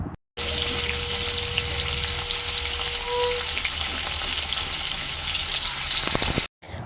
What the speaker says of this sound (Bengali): তেল ভালো করে গরম হওয়ার পর এরপর আমি চিংড়ি মাছগুলো একে একে ছেড়ে দিলাম